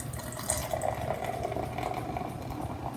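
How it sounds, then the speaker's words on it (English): Hop tea is poured into a cup at mealtime, a soft, continuous trickle of liquid, quiet and close, with no voices. "I'm going to pour my hop tea"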